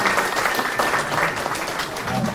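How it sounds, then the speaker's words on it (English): A crowd at an outdoor kids' robotics coding event gives a round of applause, a dense and steady wash of many hands clapping at once, loud and continuous for the whole stretch. "let's give them one more round of applause"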